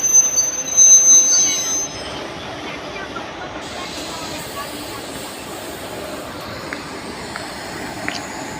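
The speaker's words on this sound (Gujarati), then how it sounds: "મિત્રો પોરબંદર વાળી ટ્રેનનું એન્જિન પાછું આવી ગયું છે" The engine of the Porbandar train rolls into a station with a high, sustained metallic wheel squeal that fades after a few seconds, leaving a steady rumble of rolling stock and occasional faint clicks.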